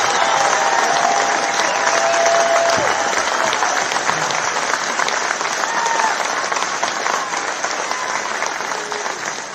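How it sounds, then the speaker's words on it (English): A crowd at a trucker convoy rally applauds and claps loudly and steadily for several seconds. A few faint cheers and voices rise in the background. "I want to give a big round of applause to those hard workers behind me"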